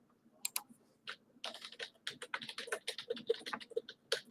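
Close, irregular clatter of keys on a computer keyboard, bursts of quick taps with short pauses between them, alone without talk.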